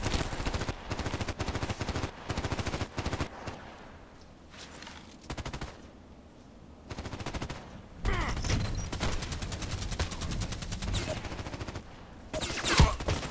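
Rapid gunfire in the shooter game Contract Wars, with dense bursts of sharp cracks, a quieter lull midway, then heavy firing returning, mixed with other battle noise and occasional voice.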